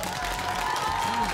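A children's class audience claps in a German school quiz show, a steady wash of applause with a voice murmuring underneath.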